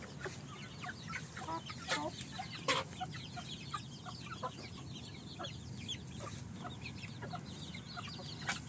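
Country hens and their small chicks cluck and peep steadily while feeding at a farm beside the drinkers, a busy chorus of short calls scattered close and far with no talking.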